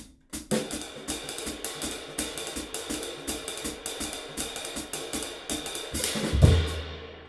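Fast jazz drumming with brisk, evenly spaced cymbal strokes and steady hits, played alone at close range and ending on a heavier accent.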